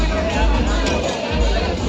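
Dense, steady crowd babble at a lively party fills the space, many overlapping voices blending into a continuous hubbub with no single speaker standing out.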